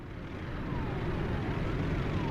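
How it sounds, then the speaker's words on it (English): Steady traffic rumble with a faint rising siren tone and distant aircraft drone in the city-building game Workers & Resources: Soviet Republic, a constant dense ambient wash from road traffic and an airport. "sirens going off, traffic noise, constant from both road traffic and the airport"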